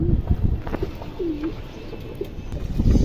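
High-flyer pigeons coo in a loft, low throaty coos rising and falling over a busy rumbling background, with a few soft chirps mixed in.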